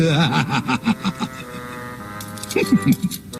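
Cartoon fire engine keys jangle in a bright metallic rattle, with a brief snicker-like vocal sound near the end.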